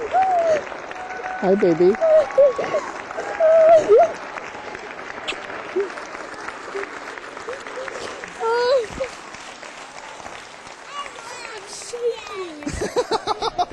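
A school crowd applauds a soldier's surprise reunion with his family after a Mideast deployment, the clapping swelling in waves behind nearby voices and a brief greeting. There are bursts of chatter and soft laughter.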